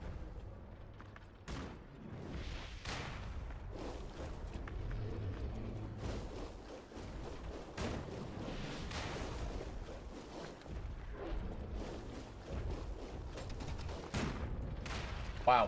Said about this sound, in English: Let's make sure we don't get killed by that stupid cannon.